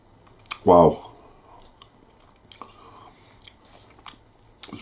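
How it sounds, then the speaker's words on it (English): A crunchy Patersons jam shortbread round bitten once, a sharp loud crunch up close followed by quieter scattered chewing clicks. "very crunchy, very crispy, very, it's got a bite to it."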